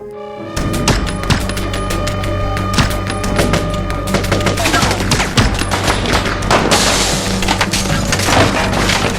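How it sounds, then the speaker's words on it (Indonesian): Sustained gunfire aimed at cannibals in an open field during a film scene, a loud, dense stream of rapid shots and impacts with splintering crashes running almost continuously over a thick music-like bed. "Rain mulai menembaki orang-orang kanibal di ladang"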